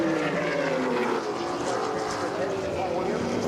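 Two big Camaro race cars bellowing down the front straight at a circuit, a dense, continuous engine roar heard from a distance with a slight shift in tone as they pass, and a commentator talking over it.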